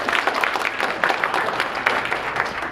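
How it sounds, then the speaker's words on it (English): Applause from an audience, many hands clapping steadily and fairly close for a few seconds. "Everyone, a round of applause for Mistress Wickham."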